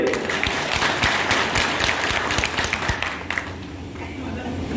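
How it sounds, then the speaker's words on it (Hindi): Crowd at an outdoor Bahujan Samaj Party political rally clapping together, a loud sustained patter that thins and fades toward the end. "बजाओ ताली"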